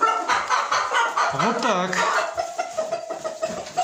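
Russian Crested hens and a rooster cluck and crow inside a chicken coop, a short rising rooster call standing out among the hens' chatter while someone talks close by.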